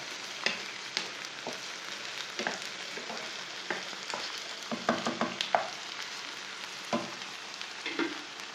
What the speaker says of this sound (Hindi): तीन मिनट तक मैंने प्याज और भिंडी को भून लिया